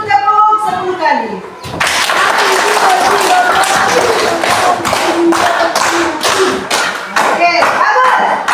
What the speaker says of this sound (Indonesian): coba dulu tepuk 10 kali